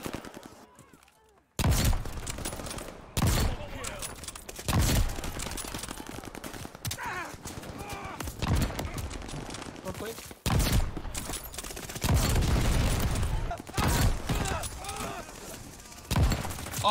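Sniper rifle and other gunfire in Call of Duty on the close-quarters Shipment map, with loud repeated shot bursts, booming thuds and dense overlapping firefight noise throughout.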